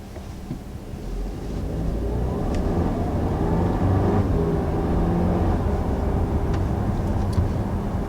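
A 2019 Audi A4 driving in dynamic mode, heard from inside the cabin as a steady low engine and road rumble that swells slightly as the car accelerates, with no speech.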